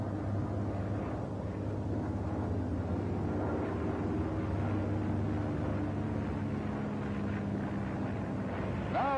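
The radial engine of an F6F Hellcat fighter plane roars steadily during takeoff as a continuous droning rumble mixed with wind rush, fairly loud and unbroken, with no one talking.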